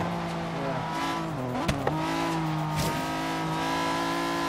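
A car accelerating in the racing game Forza Horizon 3, its engine drone steady and close with rising and dipping pitch as it shifts, plus a couple of brief sharp clicks in the middle.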